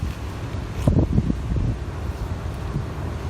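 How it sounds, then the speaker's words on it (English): Wind buffets a microphone outdoors while spring rolls are being rolled, a low rumbling gust that swells for a moment and then settles into a steady blustery roar. "That wind again."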